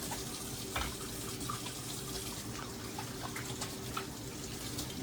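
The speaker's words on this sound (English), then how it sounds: "Let me wash my hands." Hands washed under a running kitchen tap, a steady even rush of water splashing into the sink with faint clinks, fairly quiet and continuous throughout.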